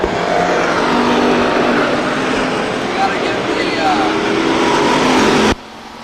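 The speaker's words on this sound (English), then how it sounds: "Dustin Himes slides high up the racetrack in turn 2, falling to the last position." Stock cars racing at Stockton 99 Speedway in 2002 make a steady, loud engine roar that holds for several seconds before cutting off abruptly near the end.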